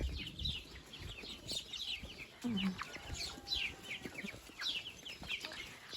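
Young chicks and chickens clucking and cheeping softly nearby, with scattered calls repeating across the clip over quiet outdoor background.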